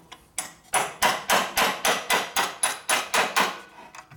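Steady metal-on-metal hammer blows on a ball punch, driving a shaft out of a Harley-Davidson Shovelhead engine part during a rebuild; about eleven sharp, evenly spaced strikes, close and loud, with no talking.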